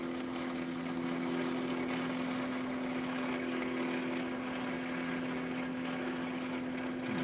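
A small pulse motor wired to a 15-watt light runs at about 2,500 RPM, giving a steady, faint, even hum with a constant pitch throughout.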